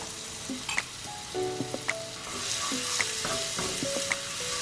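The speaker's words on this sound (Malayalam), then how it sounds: "എണ്ണ നന്നായി ചൂടായി കഴിയുമ്പോൾ കോളിഫ്ലവർ ഇട്ട് ഫ്രൈ ചെയ്തെടുക്കുക." Cauliflower pieces fry in hot sunflower or vegetable oil for a cauliflower butter masala: a close, steady sizzle with stirring and occasional light utensil clinks, no voices.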